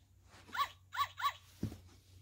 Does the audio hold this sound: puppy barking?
yes